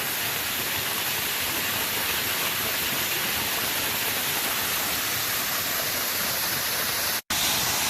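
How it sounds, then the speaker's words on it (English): A steady, dense rush of falling water from a waterfall on a hiking trail in Jefferson County, heard up close as a constant loud hiss and roar with one brief cut near the end. "Here's another shot of the waterfall."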